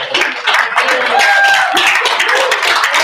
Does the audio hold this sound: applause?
yes